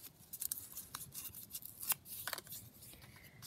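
Paper sentiment being torn by hand for a craft journal, a few quiet, short ripping and rustling bursts close by with no talking.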